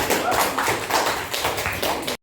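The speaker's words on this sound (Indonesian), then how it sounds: "Kasih tepuk tangan untuk kelompok." A classroom group claps together for a student team in rhythmic, fairly loud bursts that last about two seconds, with no talking over it.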